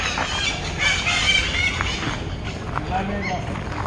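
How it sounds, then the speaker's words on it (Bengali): Birds call in a wildlife sanctuary with tall trees along a road, bright chirps and clucking notes rising over a voice talking throughout. "তার মধ্যে পাখির ডাক"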